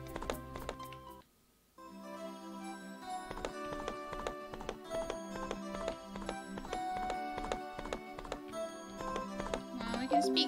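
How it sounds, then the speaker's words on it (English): Horse hooves clip-clop steadily in the video game World's Dawn, a regular trotting rhythm running nearly throughout, with a brief pause near the start, under game music and a voice talking. "I'm on a horse."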